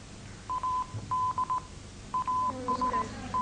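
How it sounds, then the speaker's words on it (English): Morse code tones played during a lecture sound quiz: a single steady-pitched beep keyed on and off in short dots and longer dashes, clear and alone over a faint low hum. "Morse code, very good."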